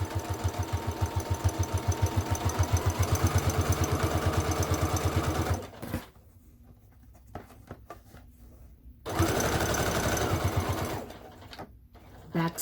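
Sewing machine stitching through a fabric wallet, a rapid, even mechanical chatter that runs for several seconds, stops amid small handling clicks, then resumes in a shorter burst.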